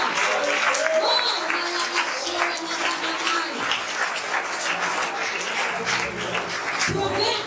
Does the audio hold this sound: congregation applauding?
yes